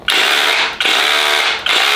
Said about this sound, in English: Then you want to switch back here, and this is going to give you the rotary drill mode